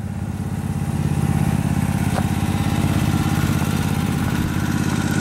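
A Snapper Pro 36 walk-behind lawn mower engine runs steadily at a constant pace, a loud, close, even drone with no voices over it.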